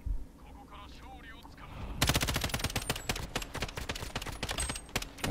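Rapid automatic gunfire from Call of Duty: Modern Warfare (2019) erupts after a quieter stretch, dense loud bursts of shots striking the player, with voices talking beneath.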